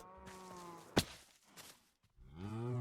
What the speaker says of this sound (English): Is that the cows?